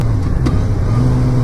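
A 2016 Suzuki GSX-R600 supersport motorcycle engine pulls in second gear, a loud, steady, close-up engine drone with a brief rise in pitch as it accelerates and no talking.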